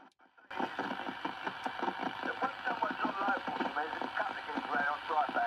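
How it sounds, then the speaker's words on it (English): A CB radio receiving a signal on channel 26 opens after a short silence, and a voice carries through it along with steady hiss and crackle until the end. "flicked back to listen to the signal coming in on the 26"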